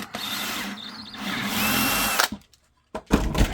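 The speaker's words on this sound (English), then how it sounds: "Mark and drill." A power drill bores through holster material during the making of a Level 3 holster for an XD 4-inch pistol, a loud, steady whine lasting about two seconds before cutting off, followed by a few clattering handling knocks.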